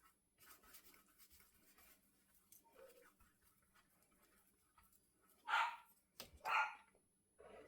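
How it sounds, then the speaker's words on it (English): A puppy barks at close range in two loud bursts near the end, after several seconds of quiet room sound with faint rustling. "And that silly puppy barking at me all the time."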